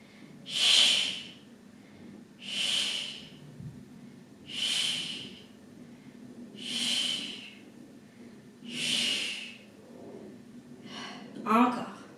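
A person exhales hard in rhythm during a thigh, abs and glutes workout: five strong, breathy puffs spaced about two seconds apart, close to the microphone, followed by a quick gasping intake at the end.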